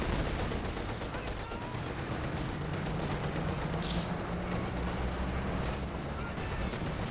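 Rifle fire crackles in Company of Heroes 2, scattered shots and bursts over a rumbling battle din, with a commentator talking throughout.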